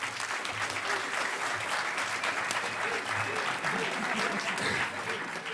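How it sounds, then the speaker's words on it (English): Sustained applause from the audience at the Hackers On Planet Earth 2012 closing ceremony, a dense, steady wash of many hands clapping at close range that holds at an even level throughout. "I'd like to give a round of applause for Mark"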